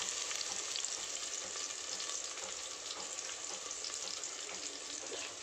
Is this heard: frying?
yes